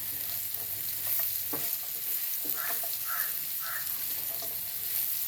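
A spoon stirs breadfruit and prawn masala frying in a pan, a steady sizzle with scraping strokes and a few brief clinks over it, close and continuous.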